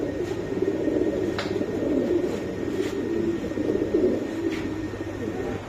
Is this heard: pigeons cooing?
yes